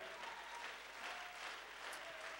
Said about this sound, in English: Let's give the Lord a hand clap of praise for his lovely wife and for their family.